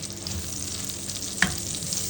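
Onions frying in the pan left from searing beef for steak tagalog, an even close sizzle with one sharp utensil knock midway, no talk.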